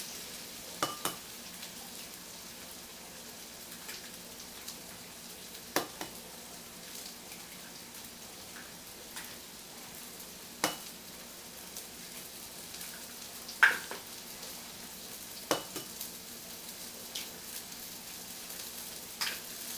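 Onions and eggs sizzle while frying in a pan at breakfast, a soft steady crackle with occasional sharp pops and stirring clicks, quiet and without talk.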